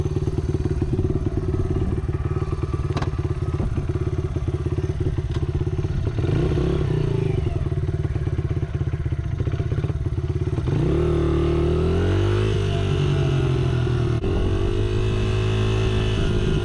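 A 1986 Honda XR80 dirt bike engine runs steadily and close while riding on a hill, its buzzy small-displacement drone rising and falling with throttle changes and a slightly uneven, funny idle, with a few knocks and clatters.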